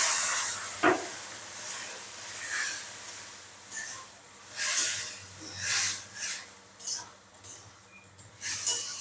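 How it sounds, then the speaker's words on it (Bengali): Ground mustard paste, two kinds blended together, goes into hot oil and spices in a frying pan for a tuna fish curry, giving a loud, hissing sizzle that swells and fades in bursts. "তো এখন আমি দিয়ে দেবো সর্ষে বাটা, 2 রকম সর্ষে একসাথে বাটা।"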